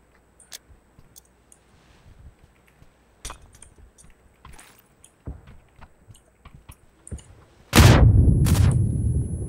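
A grenade bursts in a mobile shooter game with one loud, sudden blast near the end, preceded by scattered faint clicks and small shots over near silence.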